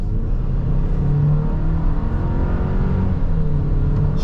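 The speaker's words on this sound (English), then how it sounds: "Chevy did good on this turbo engine" A 2024 Chevrolet Silverado regular cab with the 2.7-liter TurboMax turbo engine accelerating, a loud, steady low engine drone with a faint turbo whir, heard close from inside the truck.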